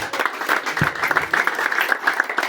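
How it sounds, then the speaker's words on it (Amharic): A church congregation claps together in a brief, lively burst of applause that stays dense and steady and carries no voice over it. "አጨብጭቡ ለዚህ ቃል።"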